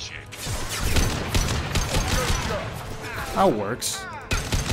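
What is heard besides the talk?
SMG gunfire in the video game Mass Effect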